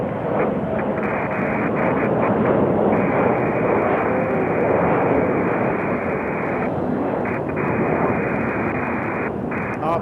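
A loud, steady aircraft engine roar fills the air at Raleigh Durham airport, a continuous dense rumble with no pause, heard from nearby.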